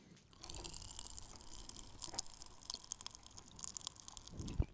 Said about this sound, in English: I'm gonna have another one so you guys can all hear me chew some more